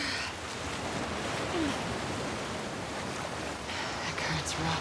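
Rough, churning water current in The Last of Us Part II, a steady broadband wash of surf and wind noise with no clear breaks, fairly loud and continuous throughout.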